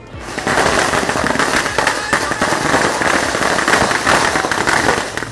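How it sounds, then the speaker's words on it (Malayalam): A dense, continuous string of firecrackers bursts loudly and rapidly during a festive welcome at a college campus in Alappuzha, the crackling sustained without pause. "ഉച്ചയോടെ പടക്കം പൊട്ടിച്ച് ആഘോഷമായി വരവേൽപ്പ്"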